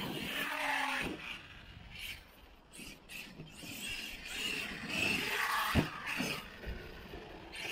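An Arrma Kraton 8s RC car fitted with fifth-scale tires runs over rough ground, its motor whine and tire scrabble rising and falling in a steady, close, rasping roar with brief sharper hits.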